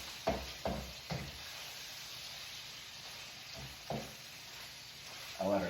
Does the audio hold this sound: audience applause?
no